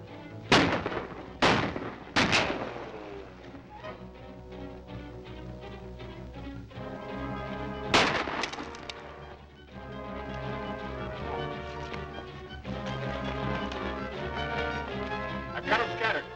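Gunfire in a western film shootout: several sharp gunshots crack near the start and another around the middle, loud and echoing over a continuous orchestral score, with no talk heard.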